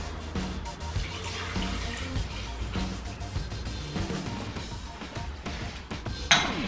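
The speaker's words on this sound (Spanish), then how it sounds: "Vale, voy a echar también una buena taza de café." A cup of coffee is poured into a powerful blender already holding pitted dates, giving a continuous close liquid splashing and trickling over a few faint knocks.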